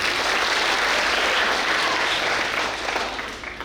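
Sustained applause from a crowd at an annual church feast near Jog Falls, dense and steady clapping that fills the whole stretch before tapering slightly toward the end.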